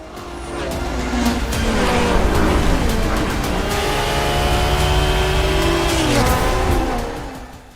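A race car in the video game Forza Motorsport drives continuously, its engine droning and revving, rising and falling in pitch, with faint tire noise; the engine fades out at the end.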